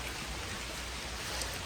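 Heavy rainfall during a motorcycle ride in the Sirumalai hills, heard as a dense, steady wash of rain noise with no voices, loud and unbroken across the whole moment.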